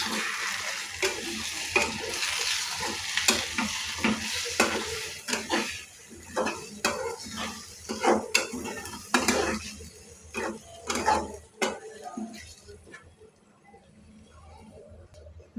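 Egg curry stirred in a pan, a spoon scraping the metal in a steady run of distinct strokes over a continuous sizzle that fades toward the end.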